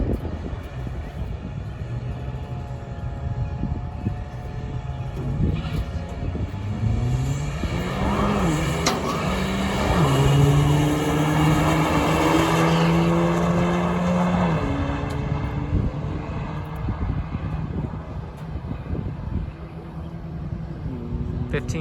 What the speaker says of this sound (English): He's going to launch it this time, but leave traction control on, so we'll see what that does.